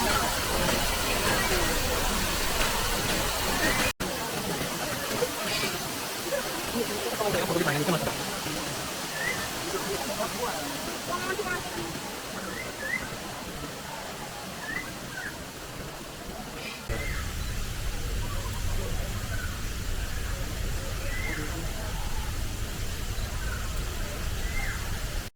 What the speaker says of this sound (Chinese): 这就是观赏瀑布最靠近的地方，没得带走了。